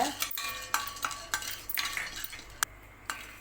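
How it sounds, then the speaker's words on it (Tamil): Gram roasting in a pan while being stirred, heard as soft scraping with sharp metallic clinks of the spoon against the pan at irregular intervals, fairly quiet and close. "இது கூடவே கால் கப்பு கடலை சேர்த்துக்கிறேங்க இதையும் நல்லா வறுத்துக்கோங்க"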